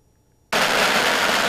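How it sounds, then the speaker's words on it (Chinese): Firecrackers go off at a groundbreaking ceremony for the new Dongmen Market building in Taoyuan, a sudden loud, dense crackling burst that starts after a brief quiet moment and continues without pause. "随着热闹的爆竹声与锣鼓喧天"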